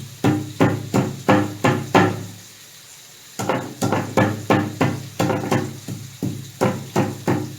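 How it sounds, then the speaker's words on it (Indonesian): A knife cuts lemongrass stalks in half on a wooden board, giving sharp, evenly spaced chopping knocks in quick runs with a short pause between groups. "1, 2, 3 serai dipotong bagi 2"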